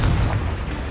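A Confringo blasting spell bursts in the wizarding action game Hogwarts Legacy, one short loud booming explosion that fades quickly.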